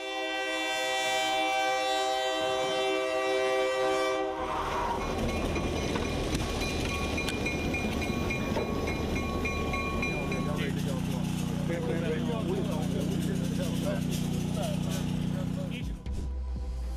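A train horn sounds in long steady blasts, then the rumble and clatter of a train rolling past close by, loud and continuous.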